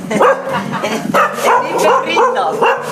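A small pet dog barks and yips repeatedly at close range, several rhythmic sharp barks mixed with whimpering, with a person speaking over it.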